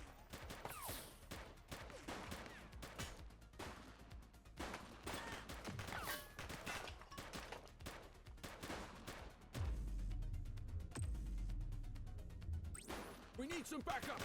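Gunfire in The Precinct video game, with many sharp shots crackling in quick irregular bursts across the scene, set among shouting voices and game sounds, followed by a heavier low rumble near the end.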